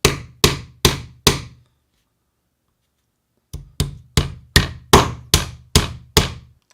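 Small nails are driven with a heavy-headed hammer: four crisp, quick blows, a silent pause of about two seconds, then eight more steady strikes, all close and loud with no talking.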